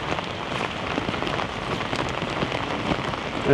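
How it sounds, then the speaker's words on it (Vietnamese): Heavy rain pours steadily on hard surfaces in Hanoi days after Typhoon Yagi, a dense, continuous hiss with scattered drops spattering close by throughout. "Đây, mưa vẫn đang rất to"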